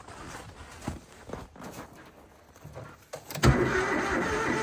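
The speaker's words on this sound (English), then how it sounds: "I guess we have to start the welder first" An engine-driven welder on a chilly day is cranked a few times with some clunks before it catches at the end and settles into a loud, steady running drone.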